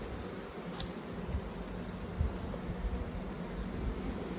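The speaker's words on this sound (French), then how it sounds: "on vient d'ouvrir une ruche qui est extrêmement agressive" Buckfast honeybees buzz steadily from an opened, extremely aggressive hive, a continuous near drone with occasional louder passes close by, no voices.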